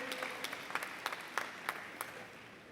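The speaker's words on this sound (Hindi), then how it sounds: "जोरदार तालियों द्वारा हम नवल बजाज जी को भी साधुवाद दें।" Audience at a spiritual gathering applauding: sparse, scattered hand claps, fairly faint and distant, over a short stretch.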